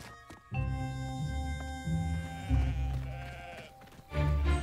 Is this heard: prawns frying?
no